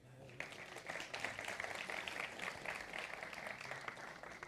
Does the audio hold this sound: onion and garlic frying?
no